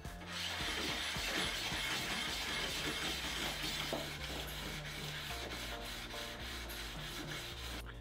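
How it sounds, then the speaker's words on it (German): Hedge trimmer blade from a Honda HHH25D being honed with circular motions on a fine sharpening stone, giving a steady, close, continuous rubbing and grinding scrape with no voices. "Zwischenzeitlich kann man dann einmal auf die feine Fläche drehen und mit kreisenden Bewegungen die Oberfläche weiter veredeln."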